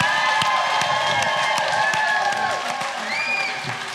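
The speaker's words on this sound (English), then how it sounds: "please give a big round of applause" Studio audience applause and cheering greet a guest arriving on a talk show stage, a dense steady wash of clapping with scattered whoops, fairly loud and sustained before fading slightly.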